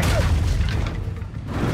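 A Confringo blasting spell in Hogwarts Legacy combat lands as a heavy low boom that rumbles and fades over under two seconds, loud and close.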